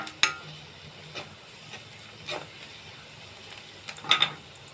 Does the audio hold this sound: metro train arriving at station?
no